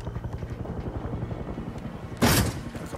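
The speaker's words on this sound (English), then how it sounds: "Helicopter coming, of course." Helicopter approaching in the Far Cry 6 video game, a steady low rotor thumping throughout, joined near the end by a sudden loud broadband burst like a blast or gunfire.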